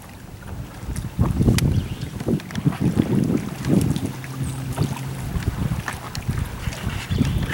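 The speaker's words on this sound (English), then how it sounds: "the wind's blowing back in here" Wind blowing around a Hobie Tandem Island sailing on open water, gusty buffeting rumble on the microphone with the splash and slap of water against the hull.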